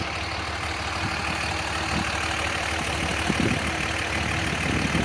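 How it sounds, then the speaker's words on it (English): A Dodge truck engine runs steadily in the background, a fairly faint, continuous low rumble throughout. "Sorry about the noise in the background. We got a Dodge going."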